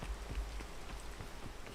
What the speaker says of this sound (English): The rain is back.